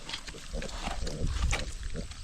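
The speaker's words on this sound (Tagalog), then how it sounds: "Yan po ang ating baboy ngayon." A pig at a farm hut grunts and snorts repeatedly at close range in short, rough bursts over a steady background hiss.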